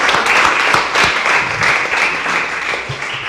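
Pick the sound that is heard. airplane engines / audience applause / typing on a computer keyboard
audience applause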